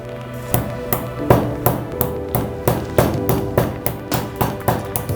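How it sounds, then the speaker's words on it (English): Black pepper being crushed by hand, a steady series of sharp knocking pounds, about three per second, close and fairly loud, with no talk. "I'm going to kind of grind my black pepper"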